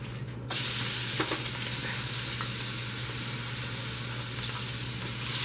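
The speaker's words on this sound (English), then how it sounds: "add garlic and stir fry for 10 seconds until it starts to turn golden" Garlic hitting a hot wok for chicken chow mein, a sudden loud sizzle that settles into a steady frying hiss with a few light stirring clicks.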